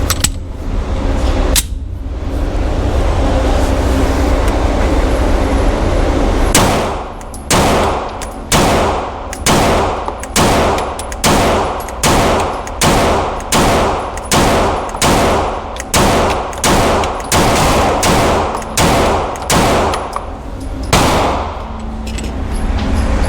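A Canik MC9 Prime pistol is fired through a full magazine outdoors, a string of about fifteen loud, sharp shots at a steady quick pace after a stretch of background noise. Each report is close and cracking, with no talk between them.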